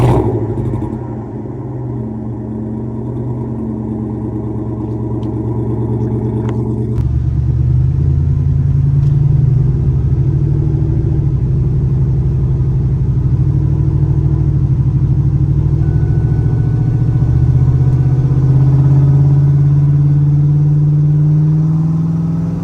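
A 1999-2004 Ford Mustang with new upper and lower control arms drives on a ride along, its engine a low, droning rumble heard from inside that steps up in level after a few seconds and keeps humming steadily.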